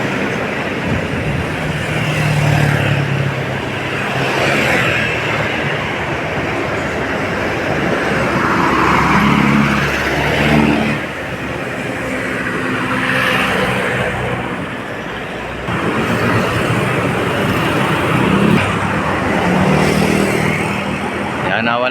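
Heavy road traffic rumbles near Arroceros in Manila, a steady roar of passing cars and engines that swells and fades as vehicles go by, with a voice talking over it.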